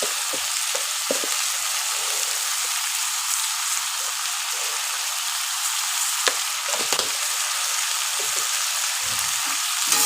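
Spices and a fish curry base for a rohu (katla) curry with potato and green banana fry steadily in hot oil, a continuous close, loud sizzle with occasional stirring scrapes, no voices.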